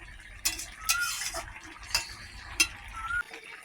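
Spiced vegetable curry with bitter gourd, drumstick and eggplant stirred in a pan, irregular scraping strokes and clinks over a soft sizzle, close by with no talking.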